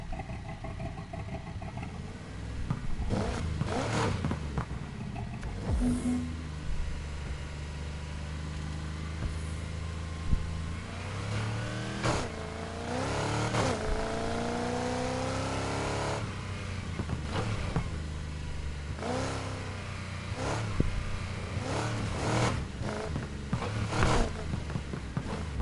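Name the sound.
car engine revving in a video game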